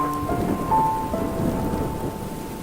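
Steady rain falls on a surface with a low rumble of thunder rolling underneath, continuous and fairly close, with a faint sustained tone in the background.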